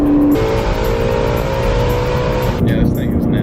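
A supercharged Ford Mustang GT350 V8 roaring loud and close on the street, a sustained aggressive engine note with supercharger whine that drops away near the end as the revs fall.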